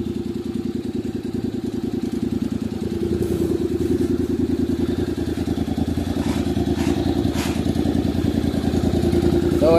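A Honda X-ADV 750cc motorcycle engine runs with no exhaust fitted, a loud, raw, rapid pulsing clatter that holds steady throughout and builds slightly toward the end, close by.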